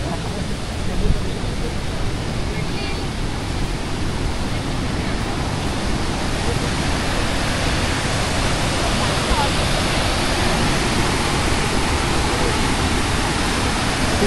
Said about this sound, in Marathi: आणि ह्या साईडला तो धबधबा आहे.